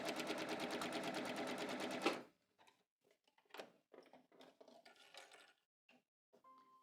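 Sewing machine zigzag-stitching over the raw edge of a pant in-seam, a loud steady mechanical whir for about two seconds before stopping, followed by faint handling clicks and rustles.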